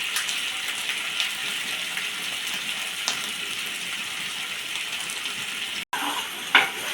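A pumpkin flower filling cooks in a pan, drying off water with a steady soft sizzle and hiss, interrupted by a few stirring scrapes and a brief clatter near the end.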